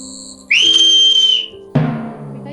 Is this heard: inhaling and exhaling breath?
no